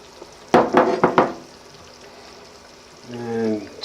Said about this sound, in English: at this stage we'll pop in our crushed tomatoes